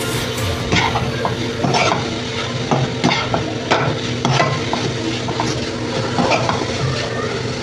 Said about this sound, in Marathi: बारीक गॅसवर परतून घ्यायचं, कारण की गुळामुळे हे पटकन जळण्याची शक्यता असते।